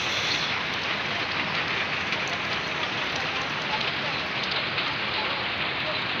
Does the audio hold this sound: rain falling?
yes